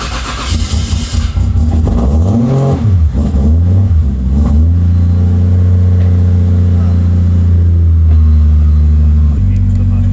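A 500 hp Toyota JZX100 with a 2JZ engine cranks and fires, rising and falling through a few loud revs before settling into a steady, deep, close idle, with a voice briefly heard at the start.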